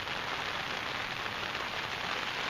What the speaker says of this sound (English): Actually, it's raining really hard